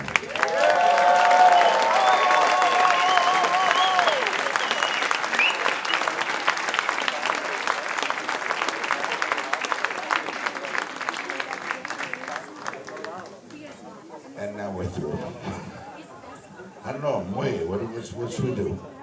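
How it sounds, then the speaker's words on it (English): A jazz orchestra concert audience gives a long, full round of applause with some cheering, sustained for several seconds before dying away; people then talk casually nearby. "I'd like you to give a big round of applause from Finland."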